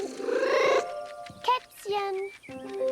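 A cat in a video game purrs and makes short meowing calls in a quick, uneven series of bursts, close and fairly clear, with game sounds mixed in.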